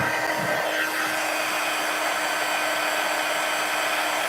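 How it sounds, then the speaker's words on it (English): A heat embossing tool blows hot air in a steady, loud whir that holds constant from start to finish, with no talking. "we're going to turn on our heat tool and heat this baby up"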